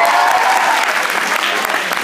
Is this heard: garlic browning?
no